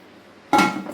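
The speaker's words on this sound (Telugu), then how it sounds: "దానిపైన మూత పెట్టి చక్కగా అలా" A metal lid is set down on a pressure cooker in one sharp, close clank that rings briefly after a near-silent start.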